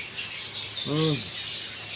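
A pet bird at home gives a single short chirp about halfway through, over a steady hiss of background noise.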